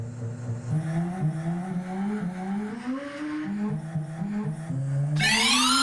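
A Peugeot 205 GT engine revs up through several gear changes, its tone climbing in repeated steps, then rising to a loud high whine at the end.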